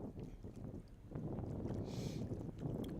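Wind gusts rumble and buffet outdoors beside a big pond, a low, steady roar that swells after the first second and stays fairly quiet overall.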